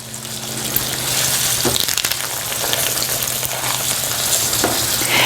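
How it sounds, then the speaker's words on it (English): Veal cutlets wrapped with prosciutto and sage fry in a hot skillet, giving a loud, steady sizzle with crackling bursts that runs unbroken throughout. "That sage leaf hitting the hot skillet."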